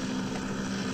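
A steady mechanical drone with a low rotor hum of a helicopter in the video game Half-Life, continuous and unchanging for under a second.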